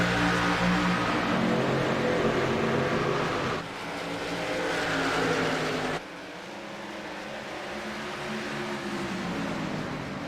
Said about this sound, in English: pace car dives in, and we are back to green flag racing